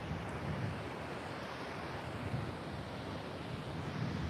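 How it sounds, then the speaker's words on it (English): A steady, broadband wash of sand-laden water slurry runs out across a beach shoreline, with continuous surf and wind roar and no distinct breaks. "So it's quite a lot of slurry, sand and water coming out."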